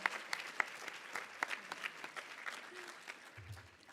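Applause from a crowd at a student leadership recognition banquet, a modest round of scattered, fairly distant clapping with a few sharper claps standing out, gently tapering over a few seconds.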